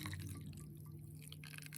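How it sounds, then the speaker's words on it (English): Hot water with sweetener dissolved in it is poured over gelatin while making Halloween treats, giving a soft, steady trickle and faint dripping throughout, with no talking. "So now I'll be adding the hot water with the sweetener inside."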